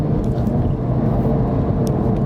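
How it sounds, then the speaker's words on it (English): A 2010 Porsche 911 997.2 Turbo pulls hard at full throttle in Sport Plus mode, giving a steady, loud, dense engine roar from inside the cabin with no break or voice. "Let's try it. Full throttle."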